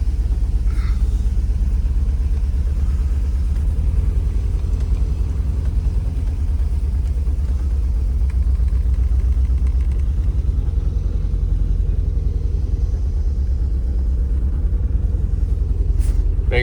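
A 1988 Alfa Romeo Spider Quadrifoglio engine rumbles close by as the car slowly pulls out past parked cars, a steady low drone with slight rises in revs and a brief sharp noise near the end.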